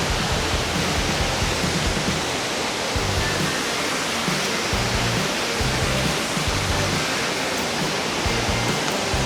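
Mantayupan Waterfall in Barili, Cebu, a steady, loud, broad roar of falling water that fills the whole stretch without a break, heard close and alone.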